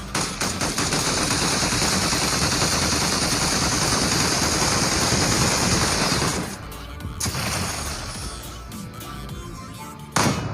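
Rapid, sustained machine-gun fire from the Astracraft storm mode rattles loudly for about six seconds, then breaks off into quieter scattered shots and background noise.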